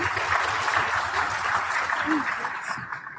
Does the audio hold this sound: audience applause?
yes